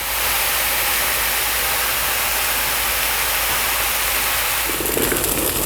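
Eggplant cubes fry in oil in a Tefal Emotion pan, a loud continuous broad sizzle that holds steady throughout, close to the pan.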